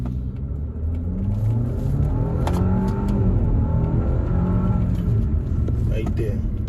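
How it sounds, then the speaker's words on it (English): An automatic-transmission car launching from a slow takeoff: the engine revs loudly and close, climbing in first gear, then the pitch drops as it shifts into second and builds again over a heavy rumble. "I just want you to hear the shift from first gear to second gear."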